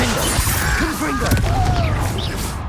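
A Confringo blasting spell exploding in Hogwarts Legacy: a loud, dense burst with crackling debris and ringing magical tones, filling the short moment at close range.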